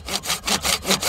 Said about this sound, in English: this limb that I'm sawing off